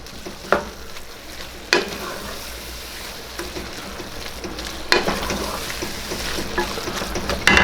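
A spoon stirs garlic through a sauce in a pan for a bolognese or marinara, giving a steady soft sizzle and scrape with a few sharper knocks against the pan and no talk over it.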